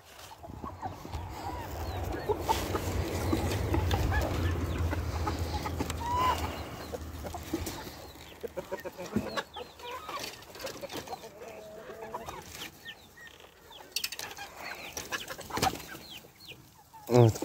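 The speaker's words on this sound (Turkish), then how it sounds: "Oo, benim civcivler kocaman olmuş." Chickens and growing chicks cluck and cheep in a garden coop as they are let out, a steady busy flock sound with low rumbling early on, then scattered clucks, rustles and a few sharp knocks.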